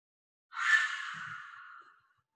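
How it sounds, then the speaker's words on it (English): A single long exhale during a guided yoga-style breathing exercise, a soft airy breath out lasting about a second and a half that fades gradually, heard close and alone with no talking. "And now exhale, here we go, back down."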